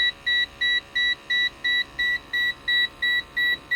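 A high-pitched electronic alarm from a gas leak detector beeps in a fast, regular pattern, about three beeps per second, loud and unbroken.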